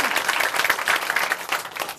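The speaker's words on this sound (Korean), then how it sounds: "각자 큰 박수 쳐주시죠" A church audience in Chuncheon claps loudly in dense, sustained applause, close and continuous, with no speech over it.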